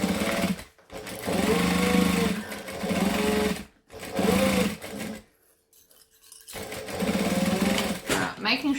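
A sewing machine stitches a bag seam, running in loud bursts of rapid mechanical whirring with short pauses between runs, while someone talks over it.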